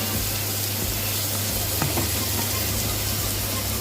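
Onions and chopped vegetables for veg spring rolls fry in a hot pan, giving a constant, even sizzle with no break and no voices over it.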